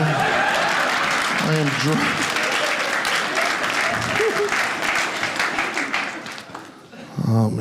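Loud, dense audience applause at a stand-up comedy show fills nearly the whole stretch, with a voice speaking briefly over it, then fading out before speech resumes at the end.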